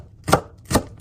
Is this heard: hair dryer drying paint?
no